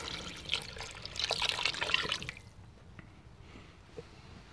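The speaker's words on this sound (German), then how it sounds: "Jetzt 1 Liter von der Rinderbrühe." Beef broth poured into a pot of hearty goulash soup, a liquid splashing and trickling for about two seconds, then quieter dribbles, close and fairly soft with no talk.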